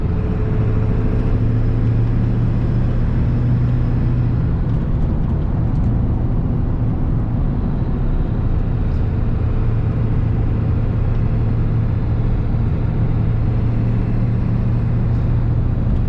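A 1996 Ford F-350 with the 7.3 diesel, a commercial-grade truck on bouncy stock suspension, heard from inside while driving: a loud, steady low engine drone and road rumble that carries on unbroken, with no talking.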